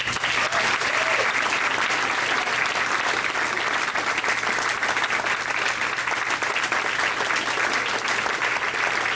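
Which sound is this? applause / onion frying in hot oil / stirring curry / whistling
applause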